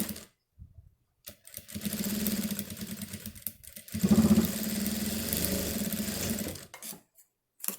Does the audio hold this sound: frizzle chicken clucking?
no